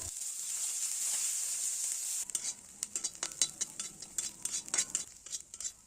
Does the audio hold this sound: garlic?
yes